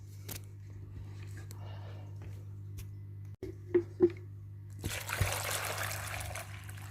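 Water is poured into a cooking pot to cover chunks of courgette and carrot for a soup. A low hum and a few knocks come first, then a rushing pour near the end.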